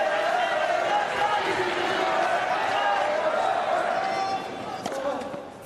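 At the Australian Open tennis championship, a stadium crowd cheers and applauds in a sustained, loud roar that eases slightly near the end, with a commentator's voice over it.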